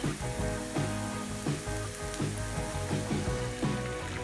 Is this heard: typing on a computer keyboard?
no